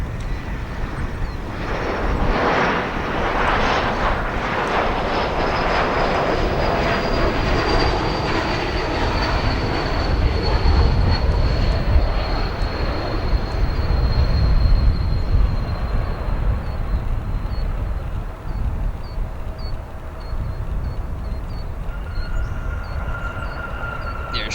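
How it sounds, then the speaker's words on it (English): A Delta Airlines Airbus A220-100 jet arriving at Chicago O'Hare from LaGuardia, a loud continuous roar with a high whine sliding downward as it passes, then easing off toward the end. "The Airbus A220-100 arriving from LaGuardia International Airport near New York."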